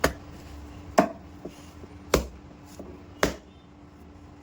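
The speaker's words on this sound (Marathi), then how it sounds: "असं आपटून आपटून मळून घ्यायचं आहे" Pizza dough for a stovetop pan veg pizza being slapped down and kneaded by oiled hands, four sharp, fairly loud slaps at steady intervals over a low background hum, with faint squishing between them.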